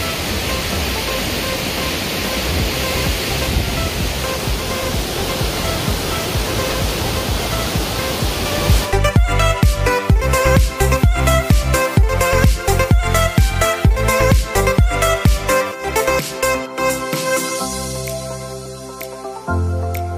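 Pulang Bato waterfall sends down a steady, loud roar of rushing water, close and unbroken for the first half, before music takes over and covers it.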